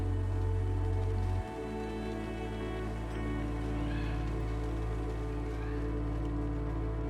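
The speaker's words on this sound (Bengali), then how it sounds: "পেঁয়াজ দিয়ে আমি কিছুক্ষণ নাড়াচাড়া করে নেব এখানে আমি পেঁয়াজ হালকা ব্রাউন কালার করে ভেজে নেব" Sliced onions frying in a pan and being stirred now and then as they turn light brown, a steady soft crackle running throughout beneath continuous background music.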